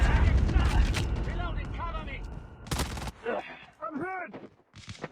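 Call of Duty Mobile gunfire opens loud with a heavy burst of automatic shots, then sharper single shots cut through as game voice announcements and talk follow.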